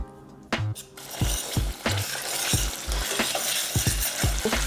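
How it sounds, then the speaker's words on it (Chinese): Two spoonfuls of minced Pixian doubanjiang stir-frying in oil over low heat: a steady sizzle broken by repeated scraping and rattling strokes of the spatula against the pan, close up and with no talking. "小火炒出香味和红油"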